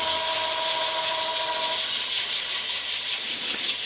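Fine-grit sandpaper rubs steadily across a domed wooden string pendant, making a continuous close scratchy hiss with no break and no voices.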